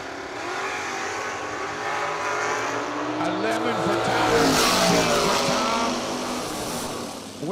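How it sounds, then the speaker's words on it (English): A dragster and a Camaro launching together at a drag strip, with the Camaro pulling a wheel stand. Engines roar loudly and swell for several seconds under an announcer's voice. "Tyler Leach, 501 the dial in the Dragster, and Tom Bueller. in the wheel stand in Camaro, down 609."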